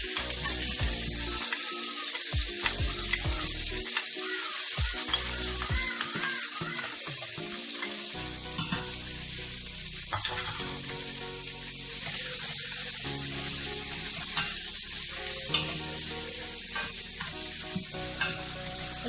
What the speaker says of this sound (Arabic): غادي نسوطيو هاد الخضيره هذه كيف ما كتشوفوا